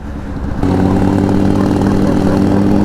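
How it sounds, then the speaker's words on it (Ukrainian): A Honda CBR 1000RR sport motorcycle engine runs loud and close, a steady throaty drone that jumps up in level after a brief quieter start and holds constant. "Оце така музика, коли ти їдеш на цьому мотоциклі."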